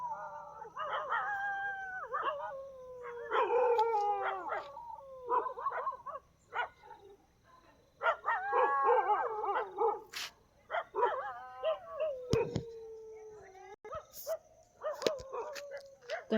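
Several dogs in a village at night bark and howl in long, drawn-out wails and sharp barks, fairly close and loud, with brief pauses between bursts.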